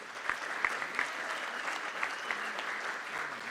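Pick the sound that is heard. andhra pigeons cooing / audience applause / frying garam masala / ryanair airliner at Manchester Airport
audience applause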